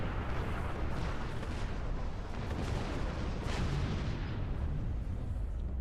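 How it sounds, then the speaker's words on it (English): Dense, continuous explosive rumble from a cobalt mine detonating in the space game Star Trek Online, with booming low roar and crackling bursts sustained for several seconds, loud and with no speech. "Try cobalt mine explosion."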